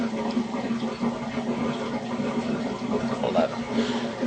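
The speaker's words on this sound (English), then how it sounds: "You can hear my my dishwasher upstairs draining." Dishwasher draining upstairs, a steady low watery rush and hum running through the whole stretch at moderate level, muffled as if coming through the ceiling, with no speech over it.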